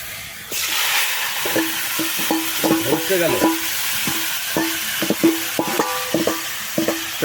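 Duck meat hits hot duck fat in a wok over a village clay stove, setting off a loud, steady sizzle with repeated scraping and stirring clatters throughout.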